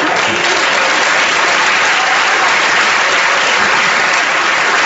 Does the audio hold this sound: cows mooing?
no